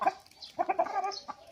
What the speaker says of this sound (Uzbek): Juda garach xo'roz bu.